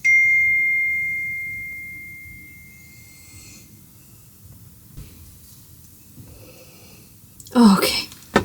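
A phone gives a single clear text-message ding that rings out and slowly fades, followed by quiet breathing and rustling, then a short burst of noise near the end.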